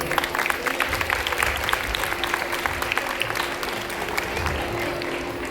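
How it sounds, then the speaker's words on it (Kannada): An audience applauds children in Yakshagana costumes at a stage performance, with loud, sustained clapping from a crowd that carries on steadily throughout. "ಅದರಿಂದ ಆ ಮಕ್ಕಳಿಗೊಂದು ಜೋರಾದ ಚಪ್ಪಾಳೆ."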